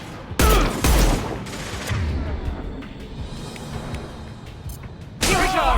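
In the Mass Effect 2 video game, sharp bursts of gunfire crack nearby in a clustered volley, then give way to softer scattered combat noise before another loud burst.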